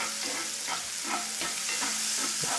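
Garlic frying in butter beside a steak in a cast-iron skillet, a steady crackling sizzle with repeated soft scraping strokes of stirring, close and fairly loud, no voices.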